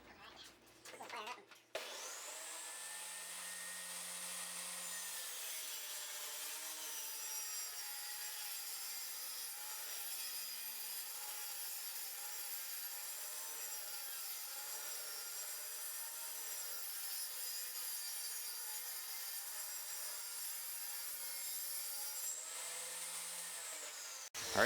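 Wooden boards for a guitar speaker cabinet are cut with a power saw. The whining cut runs steadily for about twenty seconds, close and fairly loud, with a few short bursts at the start and end.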